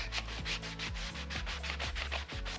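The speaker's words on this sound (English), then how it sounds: "Lightly sand the area and wipe off any dust before applying the patch" Drywall being sanded by hand around an electrical switch opening before patching: steady, repeated back-and-forth scraping strokes, close and fairly loud, with no talk.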